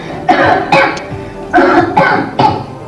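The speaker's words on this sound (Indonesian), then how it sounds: "Waduh, ada banyak asap nih. Kita bisa jadi batuk-batuk." Someone coughs from smoke, five short harsh coughs in an uneven rhythm, close and clear with brief pauses between them.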